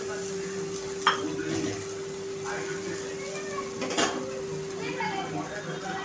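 Bottle gourd thalipeeth fries in oil on a pan with a steady low hiss. A few sharp clinks of a utensil against the pan stand out, one near the start and one later.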